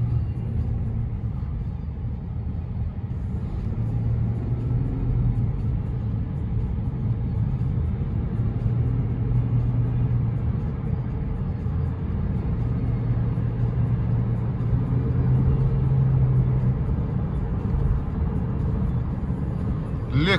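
A Lexus GS 250 cruising on a road, heard from inside the cabin: a constant low rumble of engine and tyres, steady throughout, with occasional faint talk beneath.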